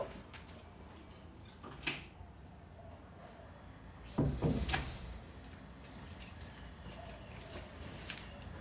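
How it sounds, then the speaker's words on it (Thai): A door being opened indoors to let a cat in gives one short rattling knock partway through, with a smaller tap earlier, against a quiet room hum. "เดี๋ยวแป๊บนึงนะเปิดเปิดประตูให้แมวแล้ว"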